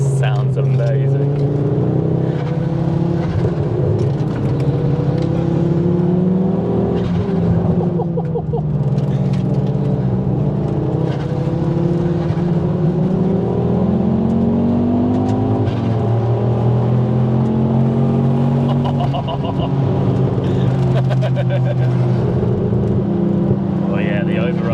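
Ford Focus RS MK2 hot hatch driven on a road, its engine droning loudly with swells and overrun burble as the throttle lifts, with occupants talking over it throughout.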